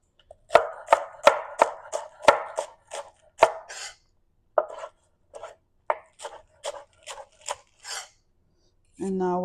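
Green onion tops are chopped finely by knife on a cutting board for garnish, a close, crisp run of about twenty sharp strokes in quick uneven bursts, with a voice starting at the end.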